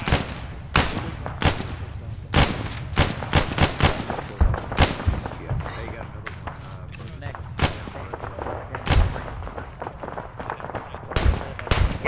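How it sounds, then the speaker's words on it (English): Video game gunfire in a military squad shooter: repeated loud sharp shots and bursts crack at irregular intervals, some close and some farther off, with brief voices between them. "Gunfire from down the hill is pretty accurate."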